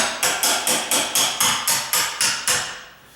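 Ten evenly spaced, sharp hammer taps ring out about three per second as a door hinge pin is driven out, each strike loud and close with a brief metallic decay, the sequence ending in quiet.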